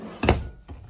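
A quick wooden thunk and slide, then a softer knock a moment later, a drawer in a 2018 Gulf Stream Class B Plus motorhome being pulled open and pushed shut.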